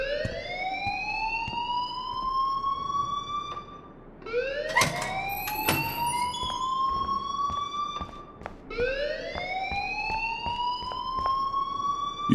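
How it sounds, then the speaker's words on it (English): An alarm in the Life is Strange video game wails in three rising electronic sweeps, each climbing steadily for about four seconds, with brief sharp clicks between them and a faint background hum. "please turn off that alarm since that's your job"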